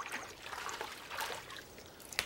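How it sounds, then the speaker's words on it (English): Tap water trickles steadily while a pear is rinsed under it, a soft continuous stream with faint splashes and a brief clink near the end. "Chris, can you rinse off my pear?"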